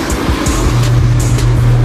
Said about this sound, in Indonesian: Sudah ada 11 mobil yang lewat ya.